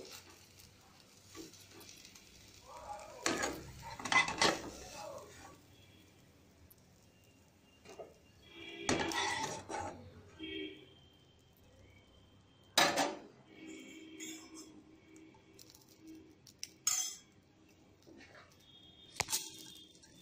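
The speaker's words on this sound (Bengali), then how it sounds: "অমলেটটা হয়ে গেছে, এবার আমি এটা তুলে নিচ্ছি।" A cooked omelette lifted from a pan with a utensil: a few quiet, scattered clinks and scrapes of metal against the pan, separated by near silence.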